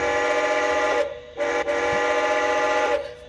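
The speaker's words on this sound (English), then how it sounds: "Here's the whistle." The sound-equipped whistle of a Bachmann J3a Hudson model steam locomotive gives three steady, harmonically rich blasts, one long, one short and one long, with brief breaks between them.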